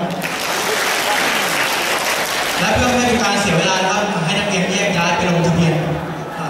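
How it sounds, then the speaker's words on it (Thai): An audience at a Thai-language teaching seminar claps together, a steady, fairly loud round of applause lasting several seconds, with a voice speaking through it. "ขอเสียงปรบมือหน่อยครับ"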